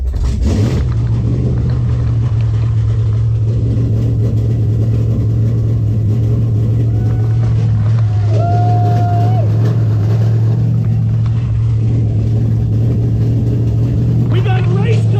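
A C3 Corvette with a swapped engine runs close by, a loud steady deep idle rumble with rough exhaust texture, a voice speaking briefly over it.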